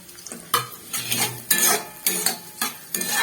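Slit green chillies frying with ginger, garlic and onion for chilli chicken, a steady sizzle broken by repeated scraping and clinking stirs of a utensil in the pan, close and fairly loud, with no talk.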